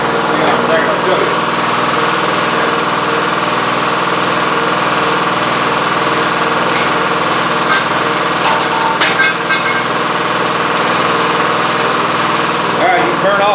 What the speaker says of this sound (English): let me let this compressor shut off